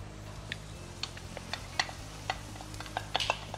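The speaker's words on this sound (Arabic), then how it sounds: "شوية بصل شوية ثوم خلوا يتقلوا مع بعضهم مع كرات وكرافس" Onion, garlic, leek and celery fry together in a pan for a chicken tortellini dish, a soft low sizzle broken by scattered light ticks and scrapes of stirring, fairly quiet and without talk.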